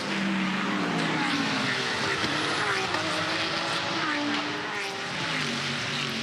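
Race cars, including a Porsche, an Erebus and a Ford GT, roar around a circuit, engines screaming and shifting pitch as they pass in a continuous loud blur with faint commentary beneath.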